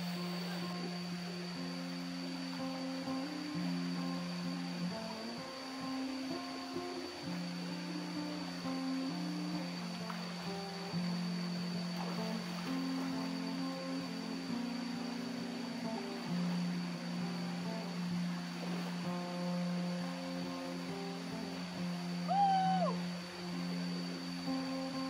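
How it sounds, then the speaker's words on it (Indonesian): A river flows right beside a riverside cooking spot in the wild. It makes a steady, even rush of water that lasts throughout, with faint tonal sounds in the background and no talking. "di pinggir sungai langsung, ini ada sungainya"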